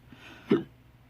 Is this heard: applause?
no